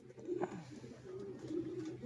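A banded homing pigeon coos softly nearby, giving a few low, throaty rolling calls with short gaps between them and no talking over them.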